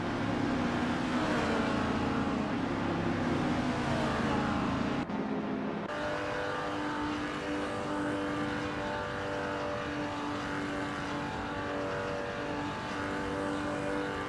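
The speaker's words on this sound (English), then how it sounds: "Bot Rock Official follows closely in second place, having overtaken 4 cars" Race cars in a racing video game drone on continuously with a loud engine tone that cuts out briefly, then resumes as a steady high whine of cars running close together. No voices.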